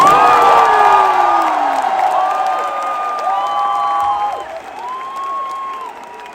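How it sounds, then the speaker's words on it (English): Packed crowd inside Mumbai's Wankhede Stadium applauding and cheering for a cricket bowler, a loud roar of clapping with rising whoops and shouts that gradually eases off over several seconds. "A huge round of applause to Jasprit Bumrah, please."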